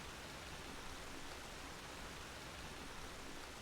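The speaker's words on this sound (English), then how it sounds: "the noise be saying it's raining hard" Heavy rain in the game Enderal: Forgotten Stories, a steady, dense hiss of downpour that holds at the same level throughout, with no voices over it.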